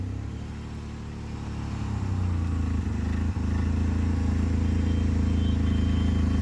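A car's engine hums steadily during a driving lesson, a low continuous drone that rises and grows louder as the vehicle moves off, with a brief clunk midway.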